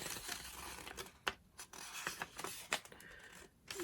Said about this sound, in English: I'm going to just fold this down